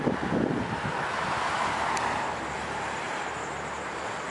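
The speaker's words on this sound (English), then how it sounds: "it's kinda windy" Steady wind rushing and buffeting against a microphone, a broad continuous roar with no voices.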